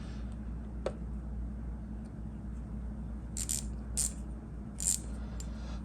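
Screws and bolts from a Honda CB550 motorcycle restoration dropped into a container, a few light metallic clinks and rattles over a low steady room hum.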